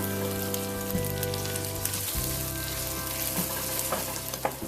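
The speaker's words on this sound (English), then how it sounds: "Give all this a little stir." A spoon scrapes and clinks around a bowl in steady, close stirring strokes, with a low hum running underneath throughout.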